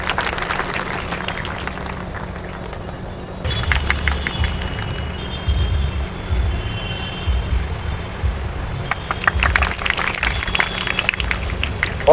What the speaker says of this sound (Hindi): अब बजाए तालियां।